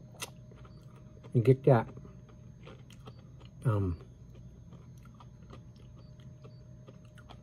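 Crunchy caramel corn popcorn with chocolate-flavored stripes is chewed in two short, crisp bursts close to the mic, with quiet talking in between.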